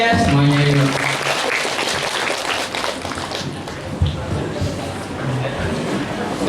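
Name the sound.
students applauding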